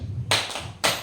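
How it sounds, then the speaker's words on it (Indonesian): A group claps the Indonesian tepuk semangat spirit clap during a teachers' training session, two sharp, close bursts of clapping separated by a short pause. "kita tepuk semangat dulu ya Bu ya"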